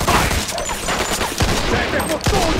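Gunfire in the video game Mafia 2, a dense loud fusillade of rapid overlapping shots and bursts that keeps going without a break.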